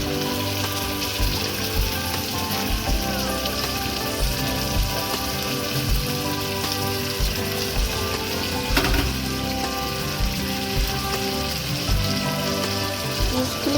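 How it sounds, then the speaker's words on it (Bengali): Chicken pieces with spices fry in a wok, a steady close sizzle and crackle that runs throughout, with no talking. "পিসগুলিকে কড়াইয়ে দিয়ে এবার চিকেনকে মশলার সাথে দারুণ করে কষতে হবে।"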